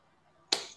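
A single sharp hand clap from a classroom group, a lone loud crack after a quiet pause, fading quickly.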